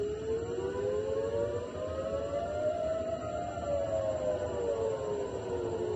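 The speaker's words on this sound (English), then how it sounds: "Sirens in Tel Aviv. Let's hear what the sirens sound like." A rocket warning siren in Tel Aviv wails in slow rising and falling sweeps, heard from a distance over a low background hum, with no voices.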